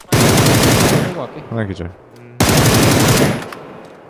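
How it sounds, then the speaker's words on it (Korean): Rapid automatic gunfire rattles loudly in an online shooter game, two long bursts separated by a pause in which a voice speaks briefly. "이거 여기 총소리 아니야?"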